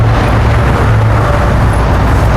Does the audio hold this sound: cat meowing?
no